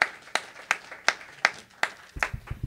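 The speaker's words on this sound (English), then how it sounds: "A big round of applause for you guys." A few scattered claps from a small benefit concert audience in Houston, spaced out and fairly close, with a faint low thump near the end.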